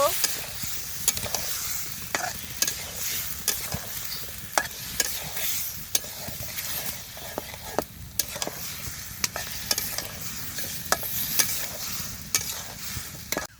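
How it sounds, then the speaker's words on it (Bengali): Potatoes stir-fried in mustard oil, a continuous hissing sizzle punctuated by frequent sharp scrapes and knocks of a spatula on the pot, close and steady throughout. "আলুগুলা খুব ভালোভাবে কষে নিব"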